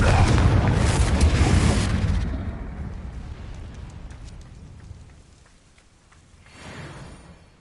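In Hogwarts Legacy, the fiery Confringo spell detonates with a loud, broad blast that rumbles and fades over a few seconds, followed by a fainter second swell.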